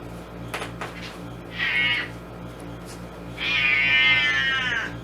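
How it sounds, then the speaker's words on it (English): A cat meows twice indoors, a short cry first and then a longer, louder drawn-out meow, heard clearly over a quiet room with no talking. "And there's the cat."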